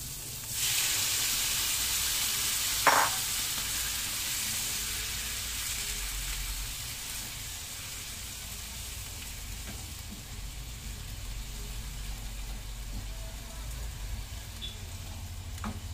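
Squid sizzles and fries in a hot pan as a steady, broadband hiss that starts when the squid goes in and carries on without a break. A brief clatter sounds early on, and there is no talking.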